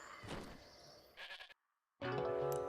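A goat bleating in the video game Metal Gear Solid 3, several wavering bleats with a brief silent gap before a final loud, sustained cry.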